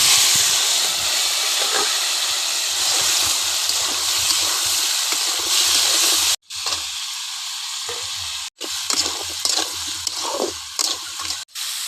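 Brinjal slices fry in hot oil with a loud, dense, continuous sizzle close by, broken by two abrupt brief cuts, and no one speaking.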